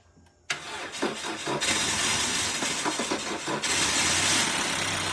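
A car engine with the camshaft sensor wiring not fully connected cranks and catches after a short quiet moment, then keeps running at a steady, loud idle close by for the rest of the clip.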